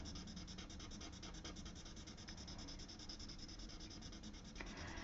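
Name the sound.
colored pencil rubbing on paper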